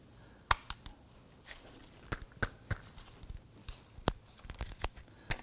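Plastic wiring harness retainer being pried off with a trim tool during a starter replacement on a 2003-2014 Volvo XC90, a series of sharp close clicks and snaps at irregular intervals.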